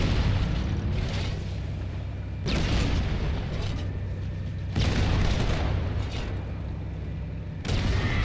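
Grenade and other explosions burst in the Halo 2 video game: three loud, broad booms about every two and a half seconds, each followed by a rumbling tail over a constant background.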